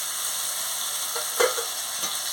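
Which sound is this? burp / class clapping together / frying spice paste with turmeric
frying spice paste with turmeric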